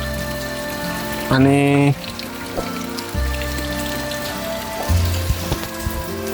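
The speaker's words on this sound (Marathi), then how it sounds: "हे बघा, पाऊस आता खूप जोरात पडत आहे." Heavy monsoon rain pours down in a village, a constant hiss under brief voices and tonal sounds that rise and fall over it.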